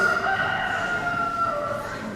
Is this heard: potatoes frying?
no